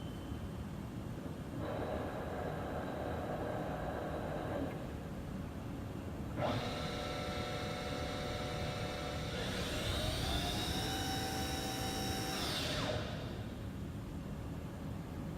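2010 Haas VF-2 CNC vertical mill running a program, its spindle whining in steady tones that step up in pitch, with a rising then falling sweep near the end, over a constant machine hum.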